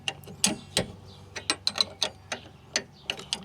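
Vice grips working a seized, half-cut nut loose on a Chevrolet Cobalt SS front stabilizer link, giving sharp metallic clicks and ratcheting snaps in an uneven series, close and clear against quiet.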